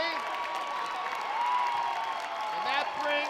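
Visiting fans at a girls high school basketball final rise with applause and cheers after a forceful block, the crowd noise steady and moderately distant beneath a commentator talking over it, with squeaking sneakers now and then.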